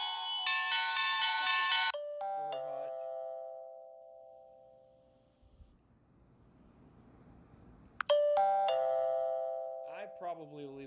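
An electronic doorbell chime rings a short melodic tone sequence, fades into a quiet gap with faint rustling, then chimes again.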